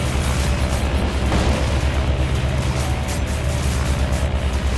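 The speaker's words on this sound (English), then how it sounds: "Oh my gosh, it's auto firing already." Sustained automatic gunfire from B-29 Superfortress defensive turrets in Roblox War Tycoon, a dense continuous rumble of rapid shots with engine drone underneath, loud and steady throughout.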